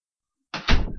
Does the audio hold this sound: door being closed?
yes